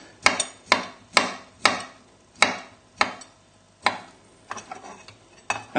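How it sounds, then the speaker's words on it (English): Pears roughly chopped with a knife on a board, a steady series of about ten crisp, close knocks evenly spaced at first, then quicker and lighter toward the end. "So just roughly chop them."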